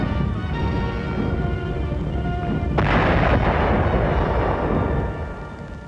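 Anti-aircraft guns fire at V-1 flying bombs over Antwerp in wartime, a dense rumbling barrage with one sharp loud report partway through, under a steady hiss of old recording noise.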